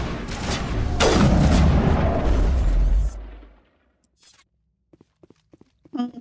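Gunfire in Mass Effect Legendary Edition against Cerberus commandos: a loud burst of rapid shots and impacts for about three seconds, cutting off sharply and followed by a few small clicks and taps.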